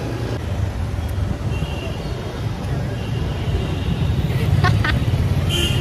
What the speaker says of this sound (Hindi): ट्रैफिक बहुत है